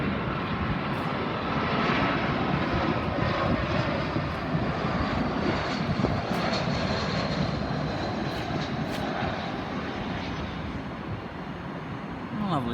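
A British Airways airliner comes in to land at Gatwick Airport, a loud, steady jet engine roar with a broad rushing rumble that fades slightly toward the end, heard from the ground at an outdoor station.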